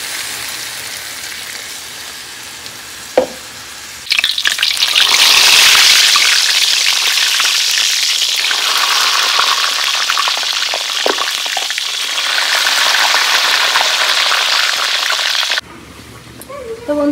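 Vegetables hiss loudly in a frying pan when water is added, the sizzle surging up sharply and then settling into a steady bubbling frying sound, with a few faint clinks along the way.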